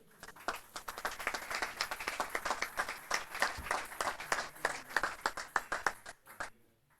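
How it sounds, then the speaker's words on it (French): Steady applause from a conference audience, many hands clapping densely for several seconds before tapering off at the end. "On peut Donc applaudir Agustine."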